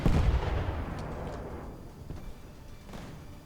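Destroyer guns fire in a naval battle video game, one heavy booming report that rolls away into a long fading rumble, with a faint later thump.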